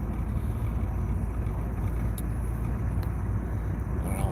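Chevrolet S10 pickup truck cruising on a two-lane highway, a steady low road and engine rumble with wind buffeting throughout and no talk.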